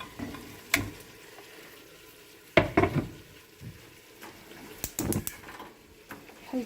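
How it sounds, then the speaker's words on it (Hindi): Low-flame cooking in a non-stick pot, a spoon stirring and scraping in a few short clattering bursts over a quiet, faint sizzle, with no talking. "बस चम्मच से इसको चलाते रहे"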